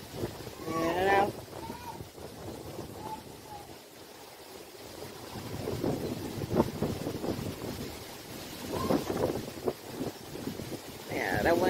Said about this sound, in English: Yeah, that wind is kicking out there.